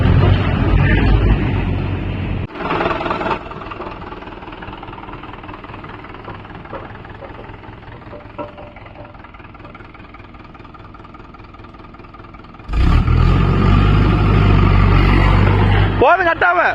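A Mahindra 575 DI tractor engine runs loud and close, revving up sharply near the end after a stretch of steadier rumbling, with voices talking over it.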